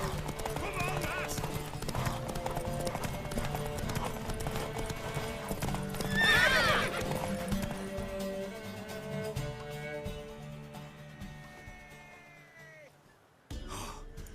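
Horse hooves clip-clop at a riding pace in The Witcher 3, with a neigh midway and faint game ambience, all fairly quiet; a voice speaks over part of it.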